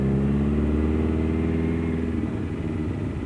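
A Lancia Astura limousine's V8 engine runs steadily and loudly up close, a rough, throaty rumble with strong low harmonics throughout, easing slightly toward the end.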